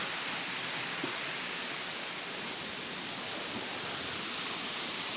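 A waterfall roars in a constant, dense rush of falling water, loud and unbroken throughout, with no other sounds standing out.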